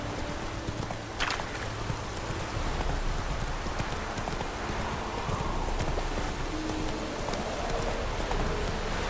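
Roach the horse from The Witcher 3 galloping at a steady pace, rhythmic hoof clip-clop close and continuous over outdoor game ambience, with no talking.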